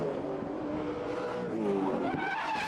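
A Supercars race car at the Bathurst 1000 is hit from behind and spun into the wall, tyres squealing and skidding over a roaring engine, with brief distant commentary beneath.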